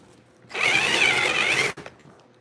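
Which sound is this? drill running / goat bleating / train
drill running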